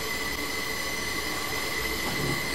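Class 444 train moving in Train Simulator 2016, a steady, fairly loud rolling rumble with sustained high squealing tones from the wheels and no voices.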